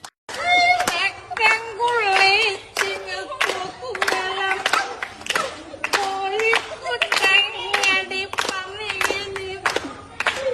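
Clapping breaks out at an Onam celebration after a parent's drunkard act, with rhythmic sharp claps running under loud voices throughout.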